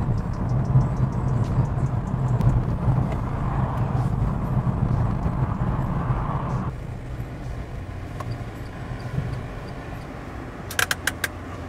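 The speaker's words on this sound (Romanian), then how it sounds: "este de fapt prima dată când eu conduc o mașină electrică" Inside an electric car on a car-sharing ride, a low, steady road rumble and cabin noise carry on for several seconds, then drop quieter. Brief clicks and light jingles follow near the end.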